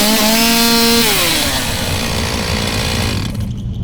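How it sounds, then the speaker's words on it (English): A chainsaw sound effect played loud and close, a buzzing motor whine that holds steady, then drops in pitch and trails into a rough, grinding rattle before cutting off near the end. "Let me make sure the chainsaw is working."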